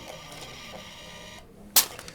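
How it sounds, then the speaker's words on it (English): A Square thermal receipt printer prints a receipt in one short, sharp burst near the end, after a stretch of quiet room tone. "you can go old school and print a receipt"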